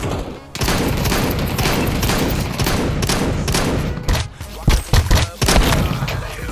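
Dense, loud gunfire in the Counter-Strike 2 video game, a near-continuous barrage of booming shots and thuds with a few sharper isolated blasts toward the end, mixed with faint voices.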